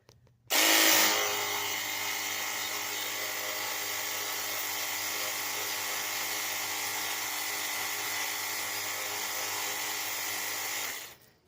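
A Mahiot cordless 500 PSI pressure washer with a 22500mAh battery sprays a mossy, algae-stained cement surface outdoors. Its motor starts abruptly and holds a loud, steady whining drone for about ten seconds before cutting off.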